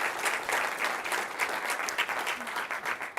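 Audience applause closing a session at a tech conference breakout on Copilot extensions, steady dense clapping from a sizable crowd throughout, moderately distant and even.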